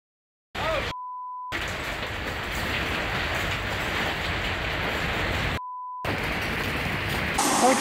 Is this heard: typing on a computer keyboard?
no